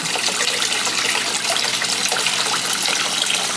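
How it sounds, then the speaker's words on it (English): A small submerged pond pump pushes water up through a homemade goldfish filter, giving a steady, continuous trickling splash close by with no voices. "the pond pump is pumping the water up into this"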